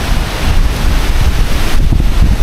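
Strong, relentless wind roars across Mount Wilis near Madiun during a storm, a dense, steady buffeting rush that fills the whole stretch with no pauses and no voices.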